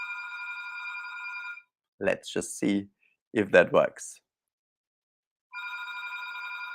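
During a live Reiki show, a telephone rings with steady electronic trills at the start and again at the end. A person talks briefly in the gap between the rings.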